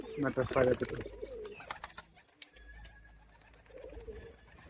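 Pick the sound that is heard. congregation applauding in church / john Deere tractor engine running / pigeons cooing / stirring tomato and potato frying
pigeons cooing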